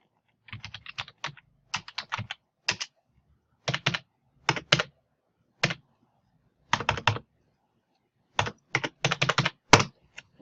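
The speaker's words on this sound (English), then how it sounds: "I'll just type it in again." Someone types on a computer keyboard: quick, crisp bursts of clicking keys separated by short pauses, close and clear with no other sound.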